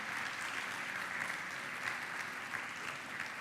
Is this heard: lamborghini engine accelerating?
no